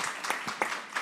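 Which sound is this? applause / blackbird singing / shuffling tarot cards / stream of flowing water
applause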